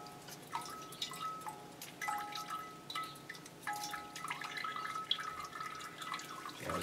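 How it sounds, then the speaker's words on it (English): Water drips steadily from drained orchid pots, a string of small close drips and trickles falling into a sink-like surface, with quiet background hum. "So I'll just let as much drain out as possible because I don't like them sitting in water."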